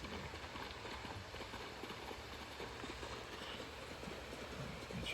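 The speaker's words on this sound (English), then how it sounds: "the horse running around at high speed" A horse gallops at high speed in the video game Ghost of Tsushima, its rapid, even clip-clop of hooves running steadily under a constant wash of ambient noise, with no talking.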